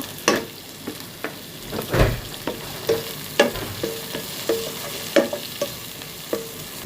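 Panch phoron spices crackle and sizzle in hot oil, with a soft frying hiss under a steady series of sharp stirring clicks and spatula taps, close and distinct, no voices.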